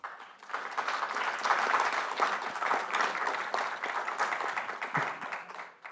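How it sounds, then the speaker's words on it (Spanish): Audience at a human rights conference clapping for a panel, a full burst of applause that builds quickly, holds steady and fades near the end. "Un aplauso para la mesa, por favor"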